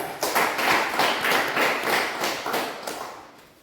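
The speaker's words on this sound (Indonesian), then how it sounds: "Kita tepuk tangan untuk kelompok 3." A classroom of students applauds a presenting group: a steady, dense patter of many hands clapping, fairly close, then gradually fading toward the end.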